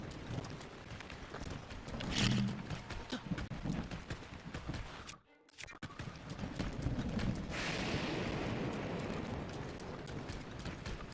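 A horse's hooves clip-clop in rhythmic strides in the video game Breath of the Wild, a brief drop in the middle before the galloping resumes along with wind-like rushing noise.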